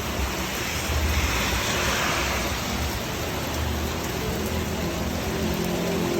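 Rain pours down in a steady, dense hiss that holds at an even level from start to finish, with no voices over it.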